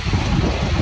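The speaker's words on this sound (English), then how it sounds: "It's a little windy today." Wind gusting against the microphone outdoors in Scotland near an airport, a brief, loud rumbling buffet with no voices.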